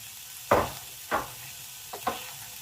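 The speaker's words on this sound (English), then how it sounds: "Got the bacon. Chuck that in there." Bacon and hot dogs drop into a hot pan, giving several sharp hissing bursts that fade into a faint, steady sizzle, with no talking.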